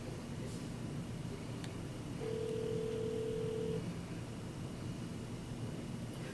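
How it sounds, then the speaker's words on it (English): A telephone on speakerphone gives a single steady keypad beep lasting over a second, faint over a constant background hum, with no other sounds. "To initiate a conference call, dial the number or extension of the first person for your call."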